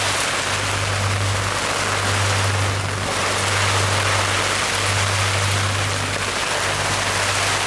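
Rain and wind blowing across open water on the Georgia coast, heard from inside a shelter, a constant loud hiss with a steady low hum underneath and no speech.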